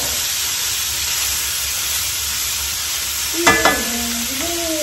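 Sausages fry in a pan with a steady, dense sizzle that holds for several seconds, broken near the end by a couple of brief clinks and a short tonal squeak close by.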